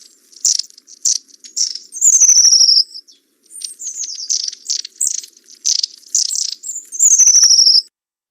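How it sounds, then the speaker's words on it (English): A bird sings close and clear in a garden setting, repeated bursts of high scratchy chirps and twitters, each phrase ending in a thin trilling descent, with short silences between phrases. "there's a lot of laughter in the long-tailed tit call, but it's scratchier"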